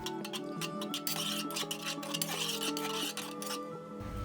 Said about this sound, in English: So I'm going to stir this around